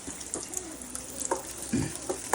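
Shallots and curry leaves stirred as they fry for a coconut-milk fish curry, giving a soft continuous sizzle with a few light spoon scrapes and clinks, heard briefly and without talk.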